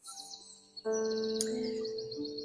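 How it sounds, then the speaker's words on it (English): Clear, tonal bird song with sustained whistling notes and a brief high chirp, fairly close and steady, with no talking. "You hear the birds singing, Nathaniel?"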